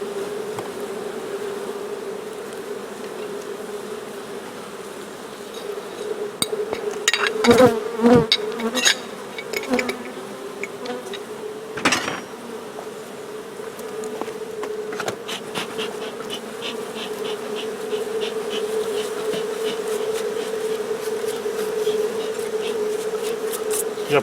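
Honeybees buzz continuously inside a jar a third full, a steady mid-pitched drone with scattered clicks and knocks from the jar being handled near the middle.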